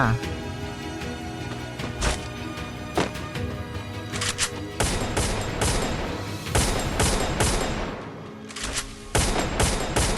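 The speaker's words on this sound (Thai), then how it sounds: "มีเสียงปืนด้านหน้า" Rapid bursts of Free Fire gunfire, sharp repeated shots and short volleys in clusters over a steady background, with some talk mixed in.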